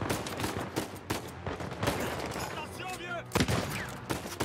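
Enemy gunfire in Uncharted 4, rapid bursts of shots and crackling fire continuing throughout, loud and dense, with speech partly mixed in.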